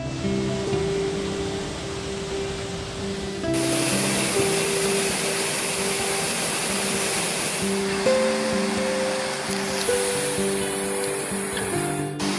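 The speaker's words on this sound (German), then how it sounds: "da läuft hier das Wasser runter in einem schönen Wasserfall" A waterfall on a mountain stream in the Allgäu hills near Oberstdorf rushes continuously as a steady broad hiss, heard from some distance along a hiking trail.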